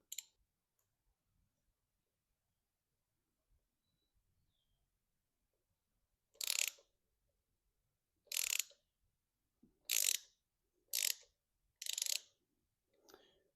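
An oil filter wrench on a socket works loose the oil filter of a Kubota BX2360 tractor, giving a series of sharp ratcheting clicks in short bursts, separated by silence and fairly close.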